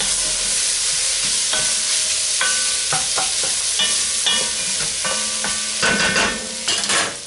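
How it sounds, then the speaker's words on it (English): Five garlic cloves sizzle loudly in a pot as a spoon stirs them, giving a steady frying hiss with clinks and scrapes against the metal. No one talks. "So I got 5 cloves of garlic going in. I'm going to give that a quick stir."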